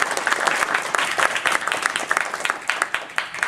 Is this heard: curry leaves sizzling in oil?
no